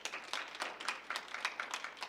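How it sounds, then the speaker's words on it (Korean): A congregation claps at a Wednesday noon prayer meeting in a Korean church, producing a dense, steady patter of many hands that stays fairly quiet and distant throughout. "박수로 영광 올려드리십시다"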